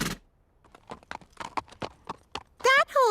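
Cartoon horse hooves clip-clop in a quick, light rhythm in Horseland, sounding under lively animated character talk, with a loud whinny-like voice near the end.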